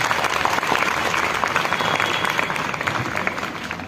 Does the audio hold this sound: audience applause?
yes